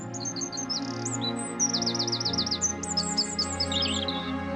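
Small birds chirp and tweet in quick repeated phrases over a steady soft musical backdrop, close and clear throughout.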